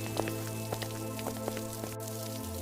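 Cartoon rain falls steadily around a roadside handi mutton cart, with scattered droplet taps over a low continuous hum, moderately quiet and without voices.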